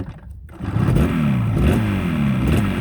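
A freshly rebuilt Yamaha RD200 motorcycle cranks on its electric starter, catches and revs up close and loud, the engine note climbing and falling in a few throttle blips.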